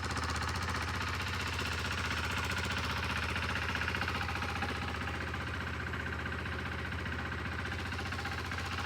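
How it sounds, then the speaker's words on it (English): KTM RC 390 motorcycle idling on its stock factory exhaust, a fairly quiet, steady rapid thumping putter from close by, unchanging for several seconds with no talking. "That's the factory KTM exhaust right there."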